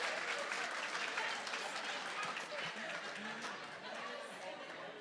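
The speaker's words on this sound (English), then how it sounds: "a huge round of applause for heads or tails" Audience applause at a Big Brothers Big Sisters of Northern Sierra charity event after a heads-or-tails game: steady, dense clapping from a crowd, with chatter mixed in throughout.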